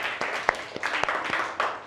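Classroom of young pupils clapping for a classmate in an English lesson: a fairly close patter of many small hands, uneven and scattered, with a few louder individual claps standing out.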